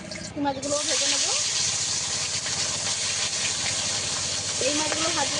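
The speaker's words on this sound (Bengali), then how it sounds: "এই মাছগুলো ভেজে নেব।" Fish frying in hot oil, a steady broadband sizzle and hiss running loud and continuous throughout, with a voice talking briefly over it near the start and again near the end.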